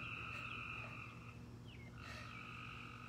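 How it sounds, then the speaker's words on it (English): Frogs croak in a continuous chorus outdoors on a hot day. Their steady, faint calls overlap throughout with no voices. "the frogs are croaking now"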